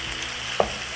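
Liver and onions fry in a pan as a spoon stirs them once, a soft scrape over a steady low sizzle, close and fairly quiet.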